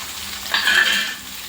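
Radish for sambar sizzling in a pan as a utensil stirs it, a soft frying hiss swelling for about half a second with a faint scrape, heard close and alone.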